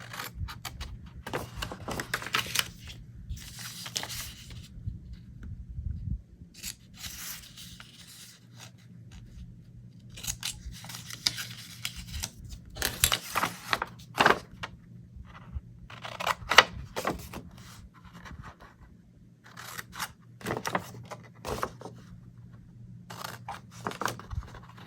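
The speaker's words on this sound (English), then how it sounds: "And we're going to cut these little corners here." Scissors snip the corners off a paper envelope while making an all-occasion card, giving scattered crisp cuts and rustles at close range with no talk.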